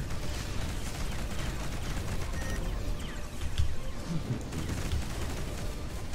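Spaceship weapons fire during a space battle in the video game Between the Stars, heard as a dense, steady roar of rapid shots and booms that stays loud throughout with no pause.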